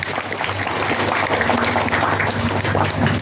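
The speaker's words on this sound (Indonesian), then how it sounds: "Tepuk tangan." A village gathering in Tulungrejo breaks into steady, fairly loud applause, a dense wash of many hands clapping that carries on without pause for the whole stretch.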